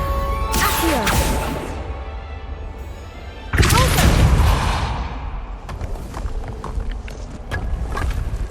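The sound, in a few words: Accio summoning spell cast in Hogwarts Legacy video game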